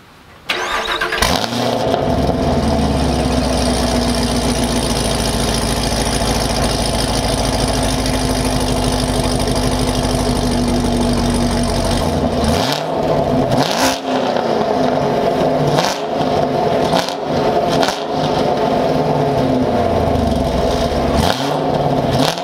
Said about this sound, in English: Let's get to the car and see what she sounds like firing on all 8.